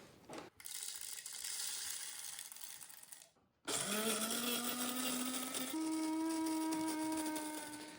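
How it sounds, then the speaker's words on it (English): A burr grinder grinds coffee beans at close range: a brief whir, a pause, then a loud sustained mechanical grinding drone whose pitch rises and settles into a steady hum. "I'm going to grind the beans, and I love this burr grinder"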